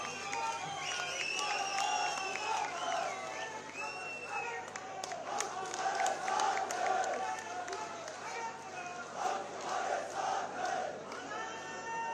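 A large outdoor crowd at a Himachal Pradesh public fair ground event claps and cheers in welcome of the chief minister, sustained applause and shouting with voices mixed in, moderately distant.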